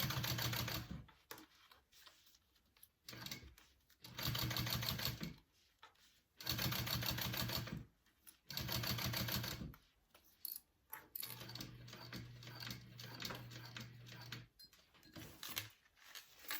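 Sewing machine top stitching a Raelyn bag, running in short bursts of rapid mechanical chatter separated by brief pauses, close and clear with no talk.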